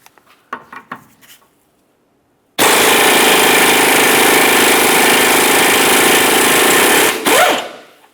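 Impact wrench with a 19mm socket removing the forward control arm mounting bolt on a 2003-2007 Honda Accord, a loud continuous buzzing hammer lasting several seconds after a few light clanks.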